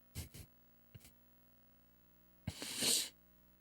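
Quiet close-up noises come first: a couple of short breathy catches, then a pause, then a louder single sneeze that rises into a hissing burst before stopping.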